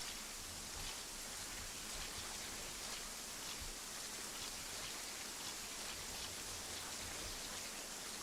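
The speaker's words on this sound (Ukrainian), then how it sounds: "Дощ посилюється, це добре." Steady rain falls and grows heavier in the military video game Arma 3. It makes a dense, even hiss that fills the whole stretch without pause and sits at a fairly quiet level.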